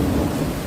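A heavy rumble of thunder rolls through a nighttime rainstorm in an audio drama, loud and continuous with rain hissing underneath.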